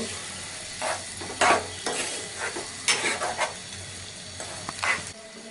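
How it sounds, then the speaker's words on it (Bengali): Tomatoes are stirred into fried spice masala for an oil-free beef curry, with a low sizzle beneath several loud, scraping stirs of a spoon against the pot, heard close and without speech. "এবার একটু ভালো করে মিশিয়ে নেব মশলার সাথে টমেটোগুলো"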